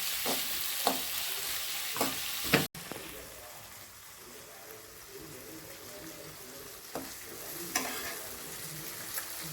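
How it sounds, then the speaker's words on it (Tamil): Tomatoes sizzle softly in a pan while a utensil scrapes and knocks against it a few times. "இப்போ நம்ம தக்காளி போட்டுக்கலாம் வதங்கட்டும்"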